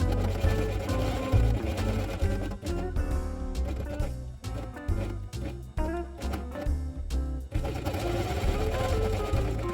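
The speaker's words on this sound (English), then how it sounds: "Place white element on top and sew it with white thread." A sewing machine stitching fabric with white thread for a felt quiet-book page, running in uneven bursts of rapid mechanical chatter with brief pauses, under soft background music.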